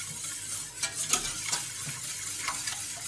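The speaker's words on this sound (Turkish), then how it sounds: "Devamlı karıştırarak çorbanın kaynamasını bekleyeceğim." A spoon stirs Turkish yogurt soup in a pot on the stove, giving soft repeated scraping strokes over a steady low hiss of the heating pot, close and fairly quiet.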